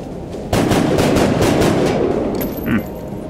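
Rapid, loud automatic gunfire from the XCOM Enemy Unknown video game rattles in a dense burst of shots lasting a couple of seconds, followed by a brief electronic tone.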